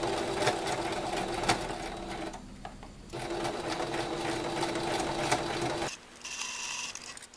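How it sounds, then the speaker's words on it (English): A sewing machine zigzag-stitching raw fabric edges runs in a fast, steady mechanical whir with rhythmic needle clatter, pausing briefly and then restarting for a short final run. "Zigzag stitch up and down as a continuous stitch on both the raw edges"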